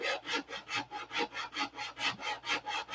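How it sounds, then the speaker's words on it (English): Hand sanding of wood on a homebuilt airplane in a hangar, with steady rhythmic back-and-forth rasping strokes, about three per second, close and fairly quiet, with no voices. "You guys are probably tired of watching me sand."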